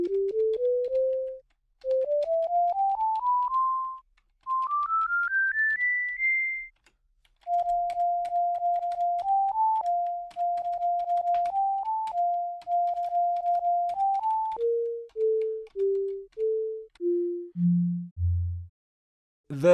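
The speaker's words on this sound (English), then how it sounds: "we've got a playable synth made from a computer keyboard" Homemade sine-wave synth driven from a computer keyboard, pure electronic tones stepping up in short rising runs, then a repeated two-note pattern and a descending sequence into deep bass notes, with soft key clicks at each press.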